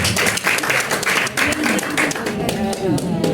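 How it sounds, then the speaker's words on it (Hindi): A crowd claps and cheers for actor Dhanesh at a Chhattisgarhi film promotion event, the dense applause loud and close, with voices talking over it. "जोरदार तालियां धनेश जी"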